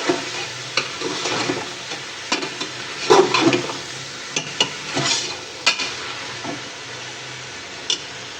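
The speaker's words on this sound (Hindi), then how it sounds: "अब 1-2 मिनट बैंगन को फ्राई करूँगी।" Brinjal (eggplant) pieces frying in a pan with already-fried potatoes for achari aloo baingan, a steady close sizzle broken by repeated stirring and scraping knocks, with no talking.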